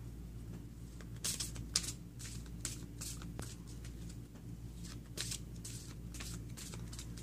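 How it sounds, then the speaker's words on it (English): Tarot cards being shuffled by hand outdoors, a steady run of close, crisp riffling and sliding card noise with sharper snaps now and then, no talking over it. "Just going to shuffle these up really quick."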